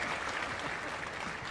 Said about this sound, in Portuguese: Palmas pra mãe.